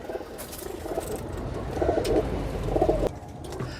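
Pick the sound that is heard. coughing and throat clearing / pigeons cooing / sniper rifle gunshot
pigeons cooing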